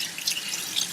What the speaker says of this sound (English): We're going to rinse it under some running water.